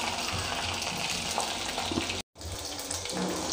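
Okra sautés in oil for a buttermilk kuzhambu with carom seeds, giving a close, steady, rushing sizzle that continues without pause apart from one brief cut, with no talk.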